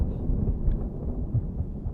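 A low, heavy rumble of a thunderstorm in Kerbal Space Program rolls on continuously, deep and muffled, like thunder or storm noise heard from inside a craft.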